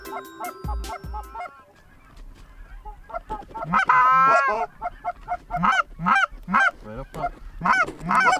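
Snow geese honk at a hunt in Saskatchewan, Canada. Sharp, repeated nasal calls come in quick bursts that grow louder and busier, after some thumps and a quieter stretch at the start.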